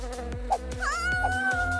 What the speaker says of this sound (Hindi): ओह, मधुमक्खी